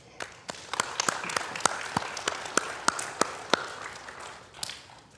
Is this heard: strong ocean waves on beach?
no